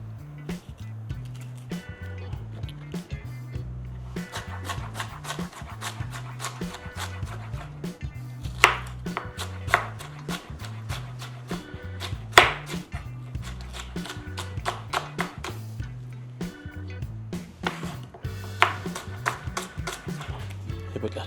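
Eggplant is chopped on a board with a steady series of sharp knife taps, close and fairly regular, with occasional louder knocks and a low hum underneath.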